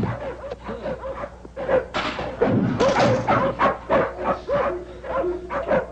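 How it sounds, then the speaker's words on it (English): Snarling, barking dogs locked in kennel cages during a film chase scene, a loud, dense chorus of growls and barks that grows busier midway, with thuds among them. "they climb over cages of snarling dogs"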